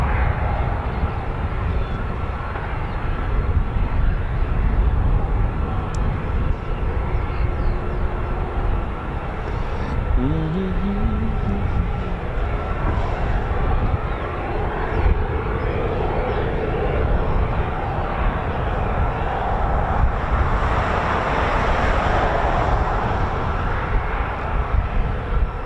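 An aircraft arriving at an RAF airfield, its engine drone steady and fairly loud for the whole stretch, with a brief rising whine midway and a broad rumbling wash toward the end.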